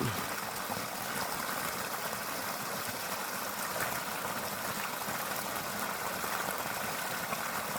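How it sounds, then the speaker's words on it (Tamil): Continuous rushing flow of water under full pressure from a 1500W BLDC pump motor, a dense steady gush with a faint mechanical hum beneath, close and unbroken. "அந்த ஃபுல் ப்ரெஷர் தண்ணி வர ஆரம்பிக்குது"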